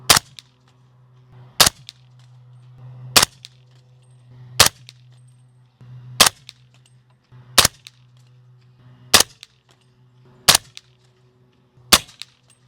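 Nine evenly spaced, sharp suppressed shots from a SIG MCX Rattler firing subsonic 300 Blackout rounds through a SureFire suppressor, each a crisp crack about 1.5 seconds apart over a low steady hum.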